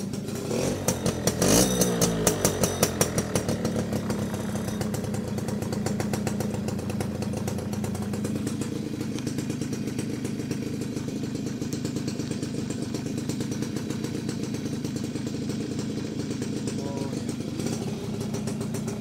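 A motorcycle engine kick-starts with a burst of clatter, then settles into a steady, loud idle that runs throughout.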